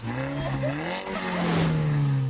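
A new Porsche 911 Carrera GTS hybrid with a 3.6 litre single-turbo flat six hums steadily from inside the cabin, a loud continuous engine drone whose pitch shifts slightly as it idles and revs, with no talk over it.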